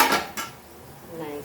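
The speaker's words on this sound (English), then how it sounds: "Now we'll add our pickle masala. And we'll mix this" A spoon scrapes and clinks against a pan as pickle masala is mixed in, a couple of sharp metallic strokes close by followed by a quieter stretch.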